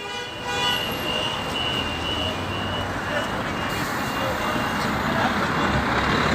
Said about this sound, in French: apparemment, ils sont contents, les gens ils klaxonnent.